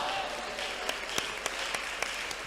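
Congregation clapping hands during a church prayer service, a steady crowd applause with a few sharper claps standing out, fairly faint and distant in a reverberant hall.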